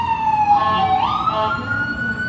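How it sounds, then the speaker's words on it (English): An ambulance siren passes by during an outdoor festival, its wailing tone sweeping up and down and fairly loud throughout, with no talk over it. "Well, there goes the ambulance"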